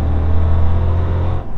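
A car engine rumbles steadily up close with a deep, throaty low hum, holding a constant note before easing off at the end; no one speaks.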